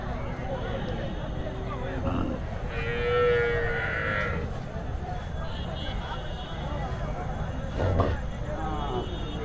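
Cattle at the Madrapalli cattle market, including bullocks and calves, with one or two low moos rising above a steady murmur of crowd noise and nearby talk.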